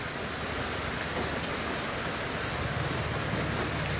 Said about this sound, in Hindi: ये आप देख सकते हैं खूबसूरत पेड़ों के ऊपर बारिश की बूंदें